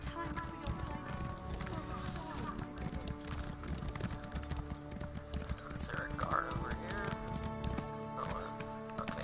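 Horse hooves clip-clop in the video game Elder Scrolls Online, a steady run of close hoofbeats with an occasional whinny, set over constant game music and ambience.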